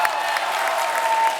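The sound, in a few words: applause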